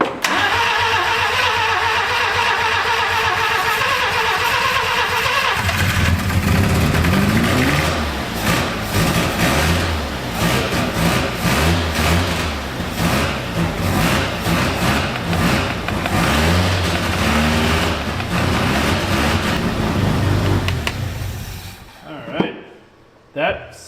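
An abandoned Mazda rotary pickup fitted with a Holley carburetor cranks and fires up, then revs repeatedly with rising and falling engine roars before shutting off, with voices talking over the engine.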